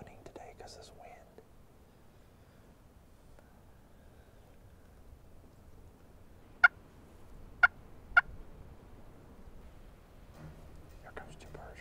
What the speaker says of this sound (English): We got birds gobbling on both sides.